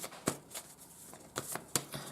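Tarot cards being shuffled by hand, a few soft, brief riffling bursts spaced irregularly, quiet and close with no talking.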